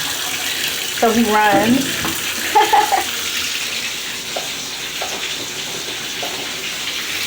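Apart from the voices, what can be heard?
water running to fill a bath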